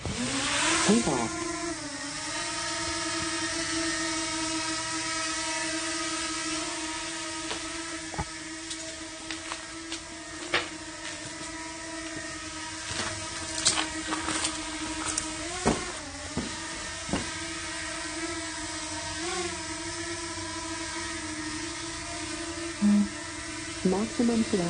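A DJI Mavic Mini Pro drone lifts off and hovers nearby, its high, steady tonal whine holding throughout with occasional pitch shifts, while faint clicks and brief voices come through in the background.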